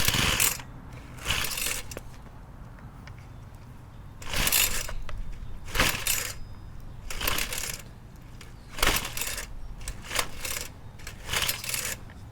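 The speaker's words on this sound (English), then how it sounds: "I don't think this pull cord is grabbing anymore." Recoil starter cord on a Troy Bilt 4-cycle weed eater is pulled again and again, giving a series of about eight rasping, whirring yanks in uneven rhythm, close and fairly loud, with short quiet gaps between pulls.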